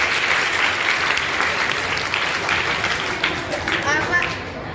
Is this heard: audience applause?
yes